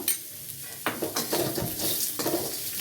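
Spices and salt with a pinch of asafoetida frying in a pan over low heat, a soft sizzle broken by a few scraping stirs and light utensil clinks, close and alone with no talk.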